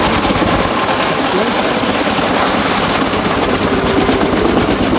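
A Kaman K-MAX helicopter roars loudly and continuously nearby at an air show, with a rapid chopping rotor beat over a dense engine whine.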